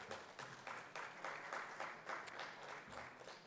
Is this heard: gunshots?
no